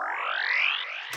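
A squelchy synth patch named Space Mud with delay slides upward in one smooth, resonant glide, then cuts off with a brief thump and a faint echo tail.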